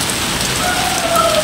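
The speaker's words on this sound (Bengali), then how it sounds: "মোটামুটি হচ্ছে বৃষ্টি," Steady light rain falling outdoors, a continuous even patter filling the scene close by with no voices.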